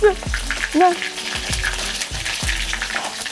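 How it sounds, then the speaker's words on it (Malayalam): Fish sizzles loudly in hot oil, a constant crackling hiss punctuated by a few dull knocks and a brief squeak. "ഇത് മാത്രമേ പൊരിക്കാൻ ബാക്കിയുള്ളൂ ഉടൽ മുഴുവൻ പൊരിച്ചു കഴിഞ്ഞു"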